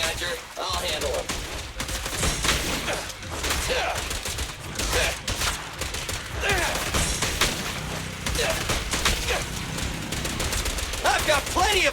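Rapid video-game gunfire rattles almost without pause, machine-gun bursts and single shots layered close and loud, with occasional heavier impacts and character voices speaking over the shooting.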